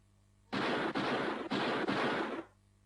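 Gunshot sound effects in a radio drama: a rapid burst of loud, dense gunfire lasting about two seconds with a few brief breaks, standing alone with no voices.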